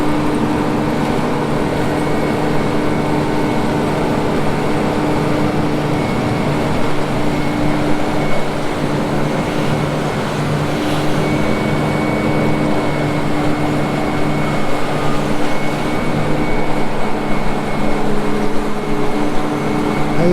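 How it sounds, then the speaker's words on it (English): A forage chopper fitted with a corn head chops dry, dusty corn for earlage, its engine and cutterhead giving a steady, loud mechanical drone with a constant hum that runs unbroken throughout. "Just the chopper with the corn head on it."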